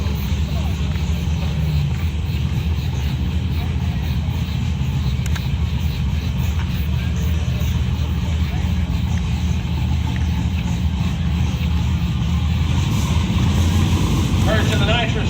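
At a drag race, a nitrous Malibu and a big-turbo Camaro sit under a loud, continuous engine drone with wind noise, the sound steady throughout and voices talking over it.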